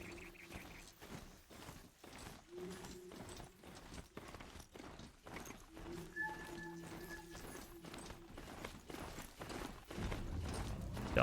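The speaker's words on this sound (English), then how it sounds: "Now we have a robot horse." Robot horse in the video game Horizon Zero Dawn trots with a steady rhythmic clip-clop of mechanical hoofbeats mixed with whirring, metallic mechanism sounds, fairly quiet throughout with brief tonal game noises.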